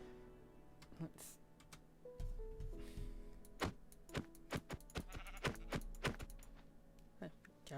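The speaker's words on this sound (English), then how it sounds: "Oh, you're a stupid sheep. Come back here, sheep." Minecraft sheep bleat several times in short bursts amid game sounds and scattered clicks, with a player talking over the action.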